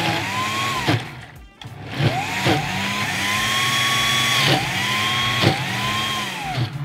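A food blender mixes onion, garlic and egg for taameya, its motor whirring steadily and repeatedly pitching up and down in cycles as the blend spins, loud and close with no speech.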